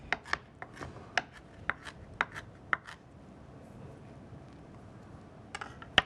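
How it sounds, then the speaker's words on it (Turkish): A knife taps sharply on a cutting board in a quick series of about a dozen chops, then pauses before a few final strikes, finely chopping ingredients for a cold yogurt soup. "Şöyle ufak ufak doğrayayım."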